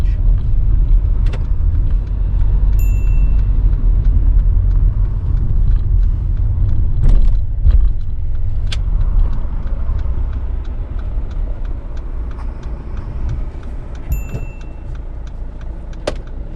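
A car on a UK driving test slowing, pulling over and parking, heard from inside as a loud low engine and road rumble that eases off, with a few small clicks and knocks.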